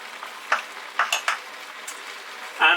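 Sausage pieces for Polish bigos sizzle in a pot, with a few sharp scrapes and knocks of a spoon stirring against the metal and a louder clatter at the end.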